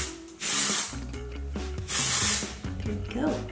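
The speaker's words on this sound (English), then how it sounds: "So I'm going to just like open up the hair and spray it all within here." Volumizing hair spray hisses into the hair in two long, close bursts, with a voice talking quietly underneath between the sprays.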